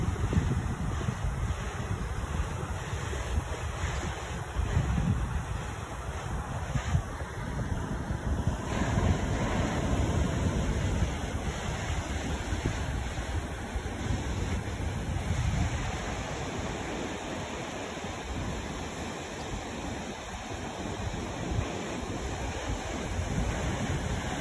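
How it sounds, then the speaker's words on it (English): Surf breaking steadily on a beach on Jersey in the Channel Islands, a continuous broad roar of waves washing in and out with gusty wind buffeting the microphone and no talking. "we come down onto the beach"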